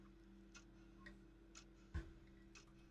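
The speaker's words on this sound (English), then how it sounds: "There's a clock making a ticking noise." A clock ticks steadily in the Bendy game Secrets of the Machine, faint regular ticks about every half second with one louder knock in the middle, over a low electrical hum and no talk.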